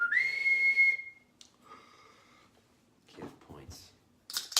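A person whistles a short rising tone lasting about a second, clear and close, followed by quieter mixed sounds and brief speech during a quick show announcement.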